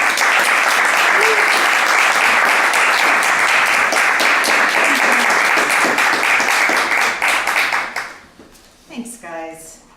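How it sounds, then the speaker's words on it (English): A seminar audience gives a sustained, dense round of applause that holds loud for about eight seconds, then thins out as a speaker begins talking near the end. "here's a round of applause."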